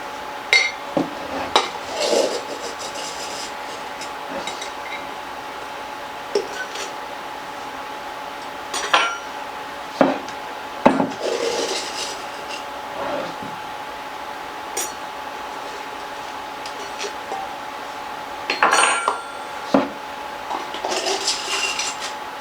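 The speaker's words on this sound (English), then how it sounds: "you're going to put 4 cups of sugar in this and stir it" A spoon clinks and scrapes in a bowl as sugar is stirred into strawberry freezer jam, with scattered sharp taps and knocks over a quiet background hum.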